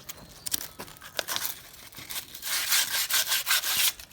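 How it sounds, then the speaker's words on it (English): Hand sanding of a removable mixer shaft with coarse 120-grit sandpaper: repeated scraping strokes, sparse at first and then faster and denser, close and fairly loud, with no voices. "just take a grit sandpaper"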